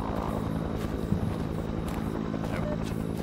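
A helicopter drones steadily with a dense, continuous rotor and engine roar in an alien abduction horror game, loud and close, while faint voices may murmur underneath.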